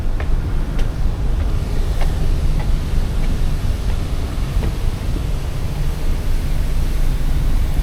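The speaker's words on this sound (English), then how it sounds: "I love the humming sounds of a vessel you always get as she steams through the ocean" Steady low engine hum of the Brittany Ferries vessel Mont St Michel steaming across the sea at night, a broad continuous rumble with faint hiss and occasional soft ticks, no talking.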